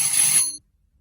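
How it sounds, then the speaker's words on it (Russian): A doorbell rings once inside a home, a bright ringing tone that sounds loud for about half a second and then cuts off, followed by silence. "раздался звонок в дверь"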